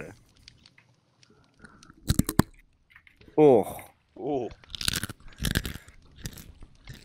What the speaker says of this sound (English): You ready for this crunch?